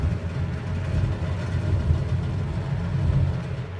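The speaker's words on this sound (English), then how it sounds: "it sounds like I just lost an engine" Grumman Goose twin radial-engine amphibian in Microsoft Flight Simulator, one engine failing: a steady low rumbling drone that holds without any break.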